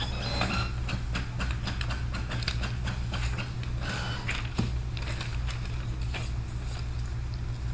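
A Brother DCP-T720DW inkjet printer runs with a steady low mechanical hum and irregular clicking and ratcheting as pages feed through. No one speaks.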